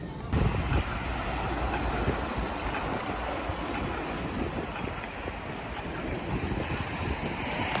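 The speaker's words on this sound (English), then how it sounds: "the train's coming now, so let's get on" A train rumbles into a station in Dortmund, Germany, with steady low-frequency roar and wind buffeting the microphone, loud and continuous throughout, no voices.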